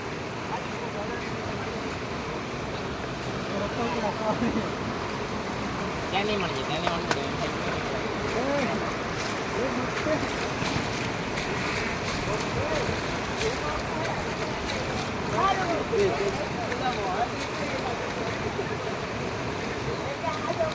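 Floodwater surging through the swollen Harnam river, a steady broadband rush and churn that holds loud and continuous throughout, with people talking over it.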